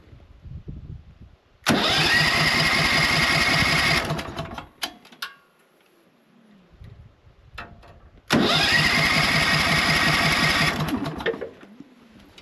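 A Logosol band sawmill's gasoline engine cranks and fails to start in two loud, sustained bursts of rough mechanical churning, each about two and a half seconds long, separated by a quiet pause with faint clicks.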